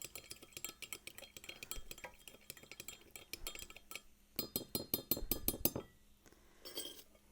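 A utensil stirs a ginger sauce in a small bowl, producing quick, bright clinks against the sides in fast irregular bursts, with a denser, louder flurry of scraping taps near the end.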